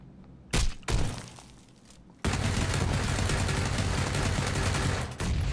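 Gunfire in the video game PUBG: a couple of sharp shots, then a sustained burst of rapid automatic fire running loud and dense to the end.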